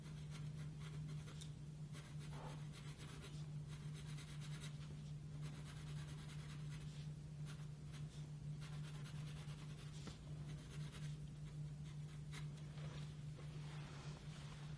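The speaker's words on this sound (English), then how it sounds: "This is where now the sharpness of your pencils comes in. So if we now start to gradually improve the shading." A pencil shades on paper, giving faint, continuous soft scratching strokes under a low steady background hum.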